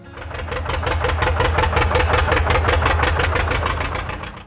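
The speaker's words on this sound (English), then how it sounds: "Number 3. The John Deere 820 diesel." A 1950s John Deere 820 diesel tractor engine idles close by, giving a loud, steady, evenly pulsing chug that holds for several seconds with no voices over it.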